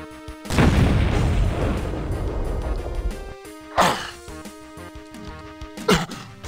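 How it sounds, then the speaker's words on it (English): A grenade explodes in the video game Doom, played with the Complex Doom mod: one loud rumbling blast decays over a few seconds. Two shorter, sharp booms follow later over sustained musical tones. "As the skybox eats my grenade."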